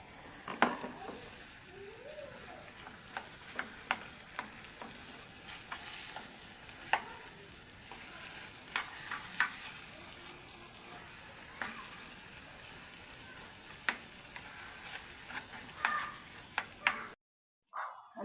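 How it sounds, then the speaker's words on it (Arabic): Chicken kefta frying in a pan with peppers and onions, a continuous sizzle broken by repeated scraping stirs and clinks of a utensil against the pan, ending in a short silence. "هي الفلفله والبصله تشحرت، غادي نزيدو عليها الكفته"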